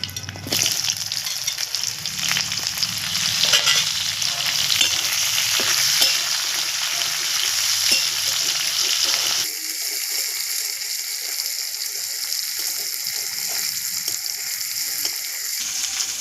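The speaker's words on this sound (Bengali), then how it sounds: "এবার আমি কাটা পেঁয়াজগুলো দিয়ে দেবো।" Chopped onions hit hot oil with nigella seeds for a prawn and taro-stolon dish, bursting into a loud, busy sizzle with scraping and clatter of a spatula; partway through, the sizzle turns thinner and steadier.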